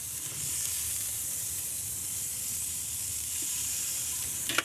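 Smoked strip steak searing on a hot surface, a steady broad sizzle and hiss running close and continuous with no talk, ending in a brief sharp crackle.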